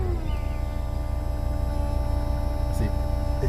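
A Volvo C70 convertible's roof motor runs on while stuck, giving a steady electric hum with a buzzing tonal whine that holds even and close throughout, with a brief faint knock near the end.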